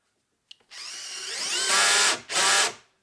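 A 12-volt Kobalt power tool drives screws into wood: a click, then a motor whine that climbs in pitch and strains loudly before stopping, and one more short loud burst.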